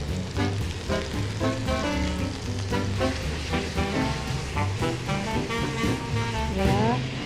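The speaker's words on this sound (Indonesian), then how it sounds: "Kita akan masukkan bumbu yang telah kita blender. Ya, kita tumis." Blended spice paste sautéing in oil for a green bean vegetable dish, giving a steady, dense sizzle and crackle throughout with musical background tones mixed in.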